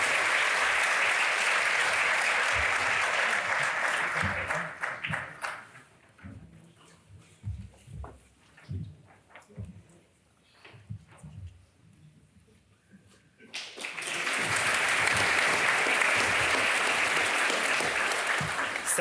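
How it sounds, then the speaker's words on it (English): Audience applause at a university conferring ceremony for primary healthcare graduates, loud sustained clapping that fades out mid-clip, leaving quieter murmurs and scattered sounds, then swells back to full strength near the end. "You can applaud."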